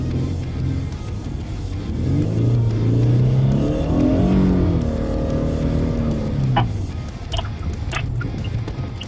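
A sports car engine revs in third gear near 4,000 RPM while driving slowly through a blizzard, a loud, close, rising and falling drone that swells mid-clip, then eases, with a few clicks near the end.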